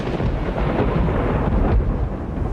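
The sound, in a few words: thunder crash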